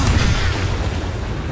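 A Booming Blade attack explodes in the video game Baldur's Gate 3, a dense, sustained low boom with a rumbling burst that stays loud throughout, no voice over it.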